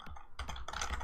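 Computer keyboard keys clatter in quick bursts of typing, close and clear, with short pauses between clusters of keystrokes at a console.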